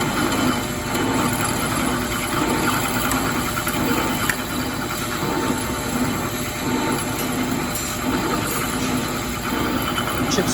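A CNC lathe turns the 6-inch hub diameter of a tractor wheel spacer, giving a steady, continuous machining drone and hum with faint rattles from chips coming off, unbroken and fairly loud throughout.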